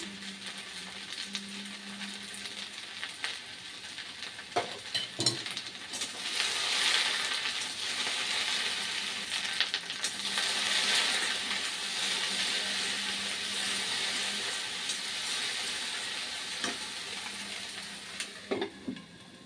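Green chili frying in a hot pan, giving a steady, loud hiss of sizzling that runs the whole time, with a few brief clinks and stirring scrapes and no talking.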